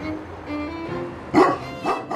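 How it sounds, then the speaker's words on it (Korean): A small dog at home barks in short, sharp bursts, two clear yaps near the end after a quieter stretch of background hum. "내킬 때마다 시도 때도 없이 짖고 또 지저대는 봉구"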